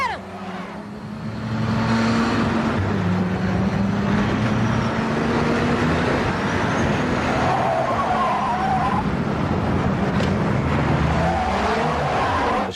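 Race cars roar through deserted city streets in The Fast and the Furious, engines loud and continuous with tire skids and squeals over a dense soundtrack, brief voices breaking in.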